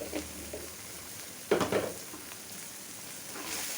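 Fish with garlic, chili and spices sizzles in a pan, a steady frying hiss with a few brief stirring scrapes, close and moderately loud.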